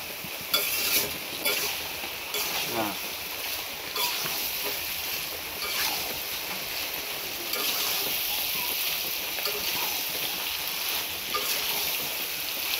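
Chicken pieces frying with spices in a pot for a village-style curry, stirred now and then, giving a steady close sizzle with scattered scraping and clattering strokes throughout.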